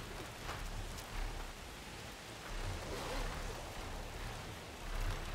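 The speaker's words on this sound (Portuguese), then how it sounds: "porque tá chovendo aqui" Rain falls in the video game Horizon Forbidden West, a faint, even hiss of broadband patter with gentle swells and no voices.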